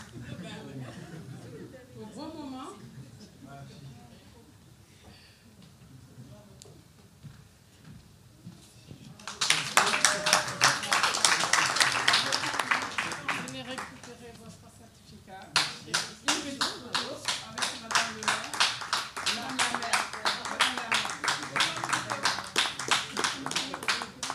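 Audience applause breaks out at an awards event on gender equality, a dense burst of clapping from about ten to fifteen seconds and a second long sustained round after, with chatter and laughter in the room beforehand.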